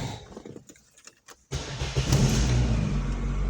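A 1996 Opel Vectra-B with a 1.6i petrol engine is cranked and fires up, falling into a loud, steady idle after a few quieter clicks and rattles, close by with no talk.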